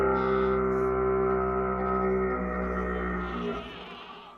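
A Minecraft goat horn playing its 'Yearn' call, one long, rich, sustained brass-like tone with many layered harmonics that holds steady, then fades with a reverberant tail, loud and alone without talk.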